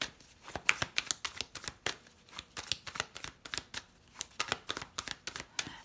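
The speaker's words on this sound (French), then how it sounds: "On va poser les 7 cartes." Tarot cards, including a Rider-Waite deck, laid out one after another: a steady series of close, crisp card snaps and slides in an irregular rhythm, alone without speech.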